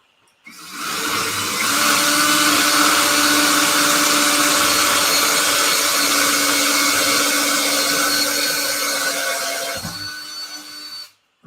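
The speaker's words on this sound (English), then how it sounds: "drill a hole in these 2 benches, bench work that I got tied together" Power drill boring a hole through a wooden bench, a loud continuous whirring drone that holds steady for about nine seconds close by, then winds down and stops, with no talking.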